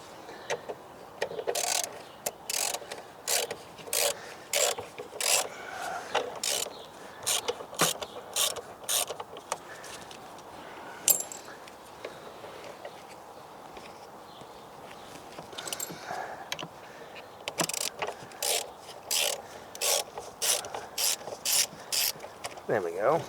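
A hand ratchet works bolts loose on a Ford C-MAX engine, making repeated bursts of quick clicking, loud and near, with short pauses between strokes.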